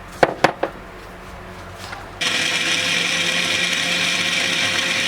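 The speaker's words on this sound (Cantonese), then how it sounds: "就用高速攪爛佢啦，約2分鐘左右啦" A blender starts at high speed on almonds and water for almond tea, after a few sharp knocks, then whirs loudly and steadily to the end.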